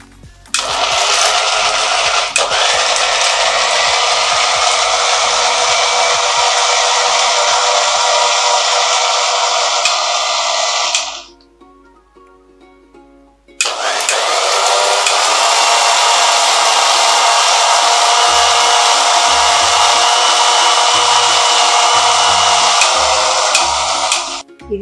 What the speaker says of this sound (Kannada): ಇದನ್ನ ಮಿಕ್ಸಿಯಲ್ಲಿ ರುಬ್ಬಿಕೊಳ್ಳುವಂಥದ್ದು.